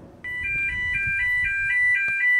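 A relay-driven alarm warning signal sounds as a steady electronic beeping tone, pulsing in a regular rapid rhythm, loud and close with no voices.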